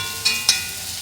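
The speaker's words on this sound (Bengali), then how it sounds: "চিটা করলা ভাজা করছি।" Bitter gourd frying in a wok sizzles softly and steadily, with two sharp clinks of stirring, close by, no speech.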